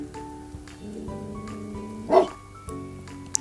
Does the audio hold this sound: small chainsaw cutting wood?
no